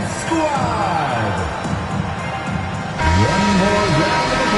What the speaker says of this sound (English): One more round of applause for your performers